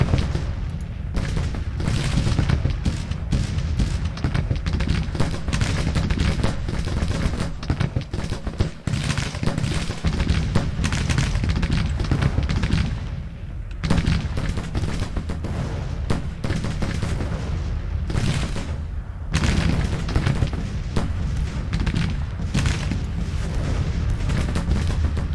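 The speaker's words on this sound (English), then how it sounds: "they're getting fire from 2 brigades, and I think some artillery as well" Civil War battle in the Grand Tactician strategy game, with musket volleys from two brigades and artillery booms forming a continuous, loud roar of crackling gunfire and deep thuds, a few brief lulls along the way.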